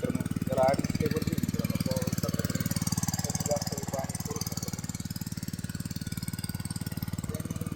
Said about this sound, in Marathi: आपण चालू केलेले वॉटर पंप जनरेटर एवढं पंप पाणी मारत